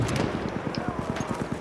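Horse hooves pound in the video game Battlefield 1, a rapid, evenly spaced run of soft thudding footfalls at close range, briefly under faint background talk.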